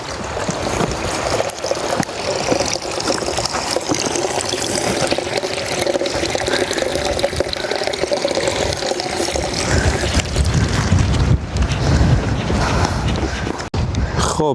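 Water runs beneath rocks on the Scottish island of Handa, a steady rushing trickle that swells louder toward the end, with faint voices in the background.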